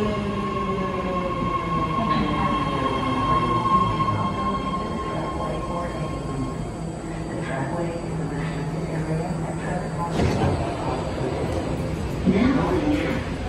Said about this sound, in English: Richmond train departing platform number 2.